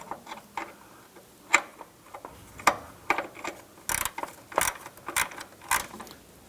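A ratchet with a shallow 8mm socket tightens the bottom bolt of a power steering expansion tank on a 2005–2007 Ford Five Hundred, giving bursts of sharp clicking pawl ticks in uneven runs, close and fairly loud.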